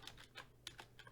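Quick keystrokes on a computer keyboard while CSS rules are entered, about six light clicks in a short burst, close but faint, with no speech.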